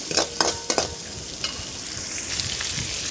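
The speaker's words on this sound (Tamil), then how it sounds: "சின்ன வெங்காயமும் பூண்டும் சேர்த்திக்கலாம் இதை நல்லா வதக்கி கொடுத்துக்கலாம்" Dals, dried red chillies, shallots and garlic being sautéed in a pan: a close hiss of frying broken by a few quick scraping stirs near the start, then steadier sizzling.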